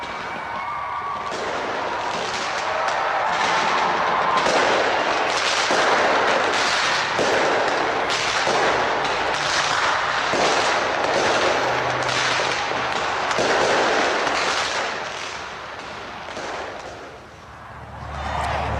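New Year fireworks burst over the Sky Tower in Auckland as a dense, continuous crackle and boom of many rapid explosions, loud and sustained throughout before thinning slightly at the end.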